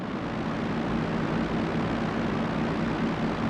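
A Fiat CR-42 Falco biplane taxis in IL-2 Sturmovik, its piston engine giving a steady, continuous drone with a low propeller rumble that holds at an even level.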